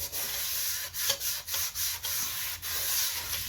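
Gritty scrubbing of baking soda against the inside of a cast iron pan, steady rasping strokes broken by short regular pauses, close and fairly loud with no voices.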